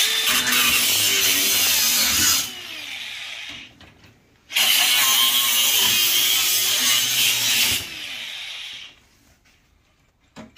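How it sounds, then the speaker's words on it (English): An angle grinder working over a copper and aluminum A-coil from an air conditioner, two long loud bursts of harsh high grinding with a brief pause between them, then winding down. "just take your grinder"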